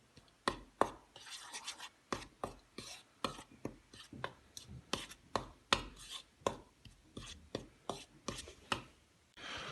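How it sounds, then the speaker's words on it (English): Banana pancake batter being mixed by hand in a bowl, heard as a regular series of soft, sharp taps and scrapes repeating about twice a second, close and quiet, with no talking. "So now we're gonna mix it well"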